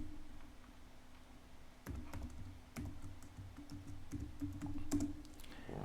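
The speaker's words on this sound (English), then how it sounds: "I'm going to enter my password in there." A password is entered on a computer keyboard as a series of crisp, separate key taps at an uneven pace, close by over a faint steady hum.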